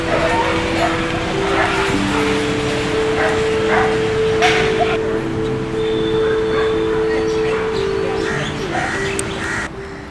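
Stray dogs barking on a New Delhi street, several loud yips and barks overlapping with birds calling and crows cawing amid steady outdoor hum.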